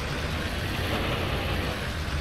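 An old silage truck in the Farming Simulator 19 video game runs with a steady, loud engine drone that holds even for the whole stretch, with no talking.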